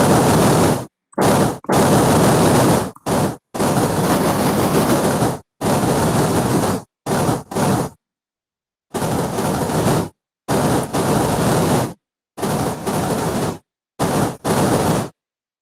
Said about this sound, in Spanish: Otro que utiliza los rápidos en río.